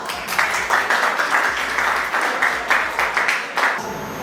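An audience at a college tech festival applauds a speaker introduced to deliver the welcome address, clapping in surging, uneven bursts fairly loud in the hall.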